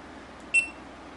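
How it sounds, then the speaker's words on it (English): A single short, high electronic beep from a GoPro Hero3 Black Edition camera on self-timer, clear and isolated over a faint quiet background. "that's a timer for taking a picture"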